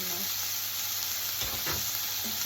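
Shrimp sauté in a pan with ginger, garlic and onion, making a dense, constant hiss of frying with faint stirring underneath.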